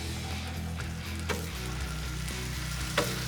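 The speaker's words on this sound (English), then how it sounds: "Let's throw these burgers down." Burgers sizzling on a Blackstone flat-top griddle for chopped cheese, a dense, steady frying crackle close by with a couple of brief scraping knocks and a low background hum.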